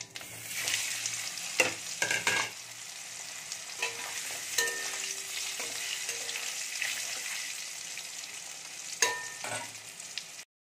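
Potatoes fry in oil seasoned with whole garam masala, a dried chilli and cumin, giving a steady close sizzle broken by occasional stirring clatters and metal scrapes.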